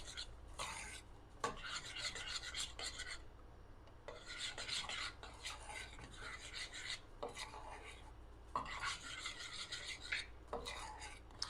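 A spoon scrapes and rubs steadily through chocolate mousse mixture in a heating pot, repeated rhythmic rasping strokes that stay close and moderately loud with short pauses between passes.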